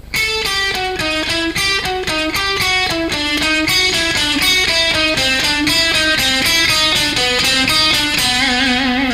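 An electric guitar plays a slow A blues Dorian lick, one evenly picked note after another in a steady stepwise pattern, loud and close with no voices.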